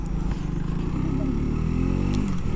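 A 125cc motorcycle accelerating on a road, its engine droning steadily with rising revs, loud and close, with wind and road noise throughout.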